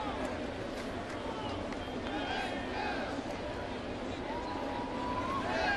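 A large baseball crowd on a Sunday afternoon at a Bronx stadium, a steady distant hubbub of murmuring spectators under a play-by-play announcer's voice throughout.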